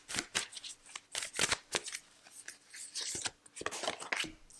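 Tarot cards shuffled and drawn close by, in crisp, quick riffling bursts with brief pauses between them and no talking.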